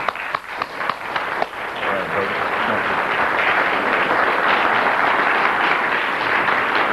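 An audience at an evening lecture breaks into applause to welcome the featured speaker, a few distinct claps swelling into a steady, dense roar of clapping that sustains for several seconds.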